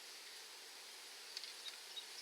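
Honey bees hum in a steady, faint buzz inside an opened hive, a continuous high drone with no talk.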